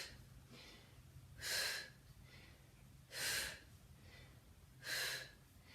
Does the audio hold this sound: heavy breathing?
yes